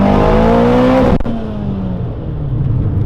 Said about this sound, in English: That Evo 10 is hauling ass, guys.